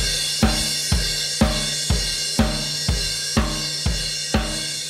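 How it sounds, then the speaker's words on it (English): A drum kit plays a groove with crash cymbal hits on every quarter note. The crashes are loud and evenly spaced, about ten of them, each ringing out before the next. "she's playing the crash cymbal of quarter notes, again, driving the quarter note"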